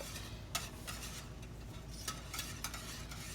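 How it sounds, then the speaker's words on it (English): Cream cheese melts in a pot over low heat while a spoon stirs it, giving soft continuous scraping with a few sharp clicks against the pot rim, fairly quiet and close. "Get this to melting. Just stir it around."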